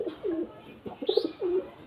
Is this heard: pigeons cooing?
yes